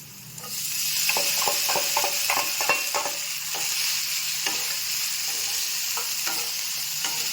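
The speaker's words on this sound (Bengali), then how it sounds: "আচ্ছা, এখন আমি সাবুদানাটা অ্যাড করে নিচ্ছি।" Sago pearls frying in oil with chopped green chillies while being stirred, a steady close sizzle with repeated scraping and clicking strokes of the spoon throughout.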